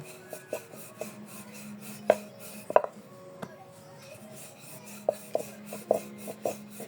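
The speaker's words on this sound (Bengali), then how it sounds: "এই যে ময়দা ছিটাই দিলাম ছিটাই দিয়ে এভাবে বেলে নেব" Flour-dusted dough is rolled out with a rolling pin on a board for a snack, soft rubbing strokes broken by sharp knocks and taps, quiet and close.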